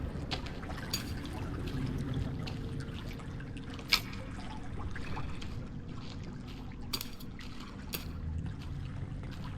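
Water trickling and dripping in the survival game The Forest, a soft, steady liquid wash throughout with a few brief sharper drip ticks, faint and continuous with no talk.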